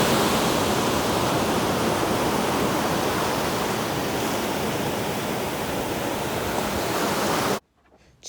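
Ocean water at Washaway Beach, a surf fishing spot, rushes as a steady broadband roar of breaking waves heard close and loud. The roar continues unbroken until it cuts out abruptly near the end, with no voices.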